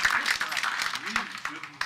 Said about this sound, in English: So give your help a round of applause.